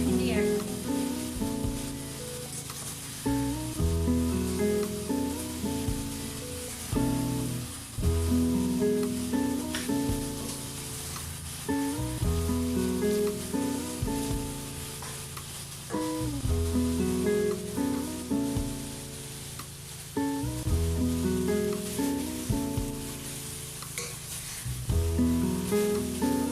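Frozen okra fries with mixed spices in a pan, giving a continuous crackling sizzle that stays steady throughout, with background music playing along.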